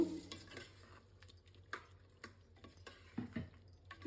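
A spoon scrapes and clinks in a pot as mint and coriander paste is stirred into chicken pieces, giving irregular close taps and soft scraping strokes over a quiet kitchen background.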